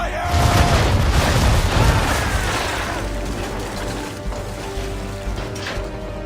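A ship's cannons fire a broadside in a video game, a heavy rumbling boom that rolls on and slowly fades into lingering crashes and creaks.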